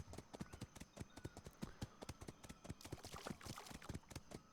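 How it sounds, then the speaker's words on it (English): A horse's hooves splash and clop through shallow water in a video game, in a quick, steady rhythm, with sloshing between steps and no talking. "I just love how the horse sounds in the water."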